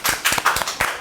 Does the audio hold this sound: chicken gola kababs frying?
no